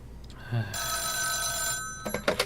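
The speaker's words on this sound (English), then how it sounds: "I believe you just received my message." A telephone in the video game This Is The Police 2 rings with a bright electronic trill lasting over a second, followed by a few short clicks and bumps.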